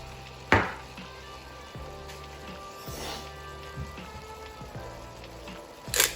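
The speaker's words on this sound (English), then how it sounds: "Let that sweat down while that beef finishes cooking." Vegetables sweat in a pan alongside cooking beef, giving a soft steady sizzle with light crackling throughout and a couple of sharper utensil knocks at the start and end.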